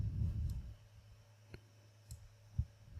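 Sparse, faint mouse clicks in a design editor, a few isolated taps spaced out over quiet room hum, with no talking.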